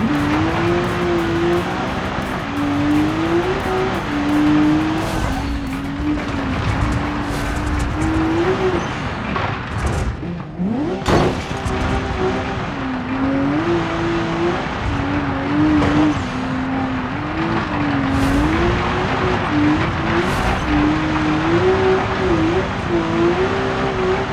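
A car in the BeamNG video game drives with a continuous engine drone rising and falling through revs, with brief tire scrapes and a jolt near the middle, loud and close throughout.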